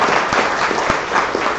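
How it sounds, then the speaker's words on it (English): Audience applause for a speaker at a policy forum and book launch: steady, dense clapping from a crowd, loud and continuous throughout, with no voices over it. "I will invite you to give a big applause to our speaker."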